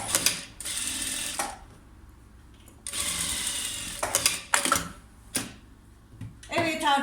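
Domestic sewing machine stitching a side pocket into a garment, running in several bursts of a few seconds each with brief pauses between, close and fairly loud, with short clicks and handling noises between runs.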